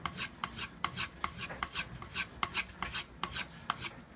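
A leather-working tool is stropped on a carbon-powder strop in rhythmic back-and-forth rasping strokes, each with a short scraping burst, close and fairly quiet, with no voices.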